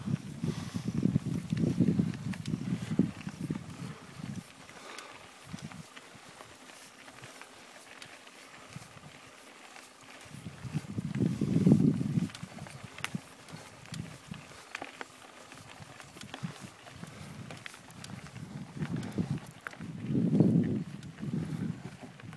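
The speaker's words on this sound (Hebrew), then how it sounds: "אז הפרות עוברות כאן" Cows walking past outdoors during a Passover single-track ride at Biriya, with soft clip-clopping hoof steps and low rumbles coming in three louder swells against steady outdoor background noise.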